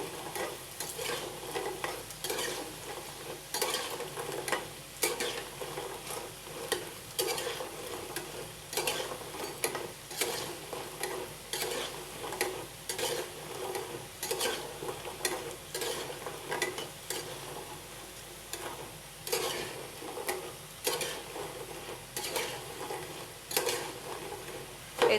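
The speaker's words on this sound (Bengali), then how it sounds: "এজন্য এইটুকুই ভাজি করলাম" Jhinuk pitha, small shell-shaped rice cakes, frying in oil produce a soft continuous sizzle. Frequent light clicks and scrapes of a spatula turning them come through at a fairly steady pace.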